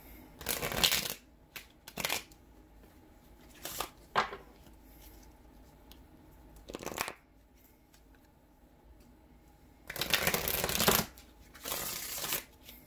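A deck of cards shuffled for a tarot reading, heard as several short, loud riffling bursts separated by quiet pauses, close to the listener, the last bursts longer and denser.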